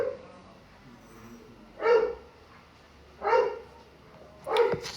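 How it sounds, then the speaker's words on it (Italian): Big dogs bark three times at steady spacing, set a little back in a room with a constant background hiss. "adesso stanno anche abbaiando dei cagnoloni"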